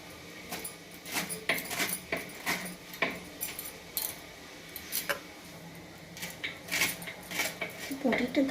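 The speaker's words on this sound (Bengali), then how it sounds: "আর এদিকে আমি বাঁধাকপিটা কেটে নিচ্ছি" A boti blade slices through cabbage in a home kitchen, with irregular crisp chopping strokes and metallic clinks up close, and faint talk in the background.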